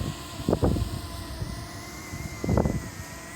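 A DJI Mini 2 drone hovers down to land on a bench on a windy day, its thin high whine running steadily while two gusts of wind thump against the microphone.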